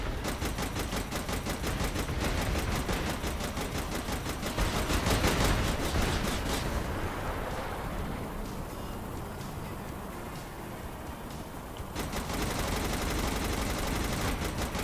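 Gunfire in the co-op game Saints Row: The Third, with dense bursts of rapid shots and crackling explosions filling the whole stretch, loud and continuous, easing slightly in the middle before picking up again.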